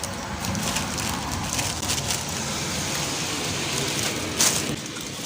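Rain falling outdoors at a rural home, a steady, dense hiss of drops on surfaces that stays loud and even throughout, with a brief sharper burst near the end.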